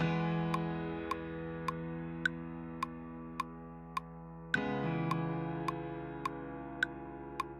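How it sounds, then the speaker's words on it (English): Sustained chords from the Kontakt piano 'The Gentleman', heavily overcompressed with OTT, low end cut and made very bright, ringing alone with a change of chord midway and a faint ticking click keeping time throughout. "using this contact piano called the Gentleman, and I've like kind of super overcompressed it, OTT'd it, cut the low, made it really bright"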